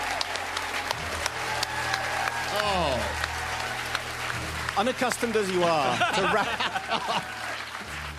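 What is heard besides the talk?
audience applause for a comedian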